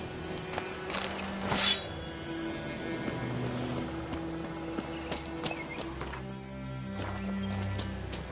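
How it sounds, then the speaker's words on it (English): Hooves clip-clop rhythmically as a horse trots in The Witcher on PS5, mixed with game music and ambient effects, a brief whinny-like sound near the start and steady footfalls continuing throughout. "horse!"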